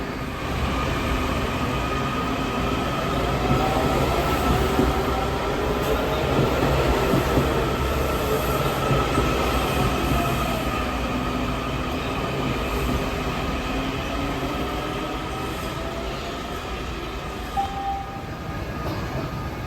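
A Washington Metro train rumbles steadily at Arlington Cemetery station, the last stop, a continuous low mechanical drone with faint clanks and a brief squeal near the end, no voices.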